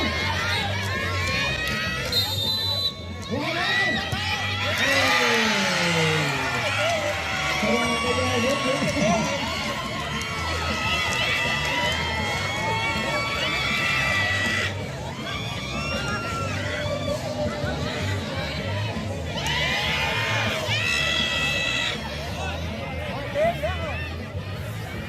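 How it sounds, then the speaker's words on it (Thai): A loud crowd cheers and shouts throughout a penalty-kick game, with children yelling and excited voices rising in waves over steady babble. "ขอเสียงตัวเชียร์ ตัวเชียร์ทุกท่านเลยทุกท่านเลยทุกท่าน"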